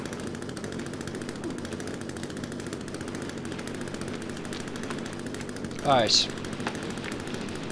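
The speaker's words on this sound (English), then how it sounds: "we are getting the chainsaw out" A chainsaw runs in The Forest video game, giving a steady buzzing drone throughout. A short spoken word and a brief sharper burst come near the end.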